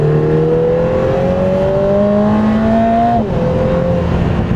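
A Lotus Emira sports car engine revs steadily higher for about three seconds, then drops slightly and holds a loud, continuous growl close by.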